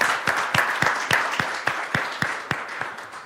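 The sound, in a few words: audience applause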